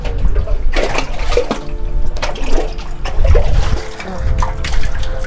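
Water sloshing and splashing as it is drawn from a well at a Bhairava temple in a coastal village, irregular close pours and trickles with a voice talking over part of it.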